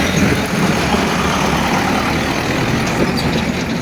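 Steady roar of traffic on a busy main road, with truck and bus engines idling and rumbling close by and a brief air-brake hiss, continuous and loud with no talking.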